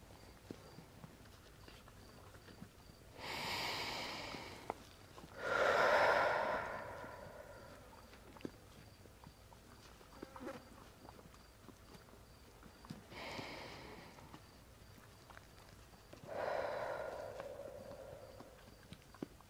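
A horse draws several loud, breathy snorts and exhales at uneven intervals, close by, with soft hoof shuffles and quiet stretches between the breaths.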